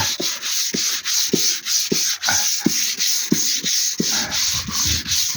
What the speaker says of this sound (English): very thin sanding.